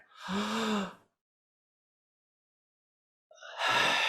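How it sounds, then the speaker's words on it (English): Two close, audible breaths during a breathing exercise: a voiced breath at the start, a silent pause, then a sharp deep inhalation rising at the end, with no talking. "Take a deep breath."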